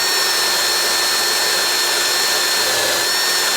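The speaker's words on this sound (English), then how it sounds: "with my wire brush on the drill," Power drill spinning a wire brush to scrub rust off the coil and terminals of a Hayter 41 lawnmower held in a vise, a steady loud high-pitched whirring grind running continuously, close up and without any talk.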